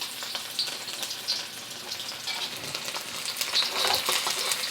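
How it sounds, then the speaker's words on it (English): Sliced garlic crackles in smoking-hot oil in a wok, a dense, even sizzle with bright popping spatters throughout, close and steady, no talk. "it's starting to smoke a little bit right now, so I'm going to add my garlic chips"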